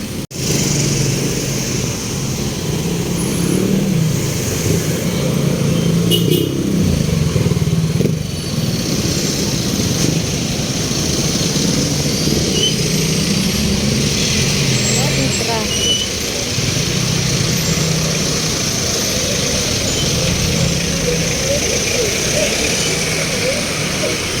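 Busy street traffic with motorcycles and cars produces a loud, continuous engine drone close by, with revving swells throughout and voices mixed in.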